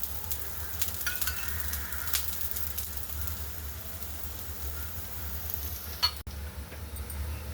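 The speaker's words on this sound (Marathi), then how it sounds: "आता थोडासा गॅस वाढून खालची साईड पण छान भाजून घ्यायची" Bajra thalipeeth fries in oil on a pan over raised heat, giving a steady, close hiss of sizzling with a few faint scrapes and one sharp clack near the end.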